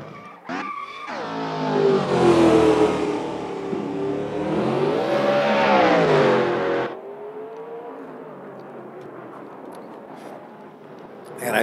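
A car driving laps on the Nardo race track during a sunset trackday, its engine revving loud and close with rising and falling pitch for about seven seconds, then settling to a quieter steady drone.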